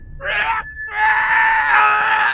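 A voice imitates a small screeching creature behind a door, a brief wavering shriek, a short pause, then a longer sustained high moaning screech, close and loud.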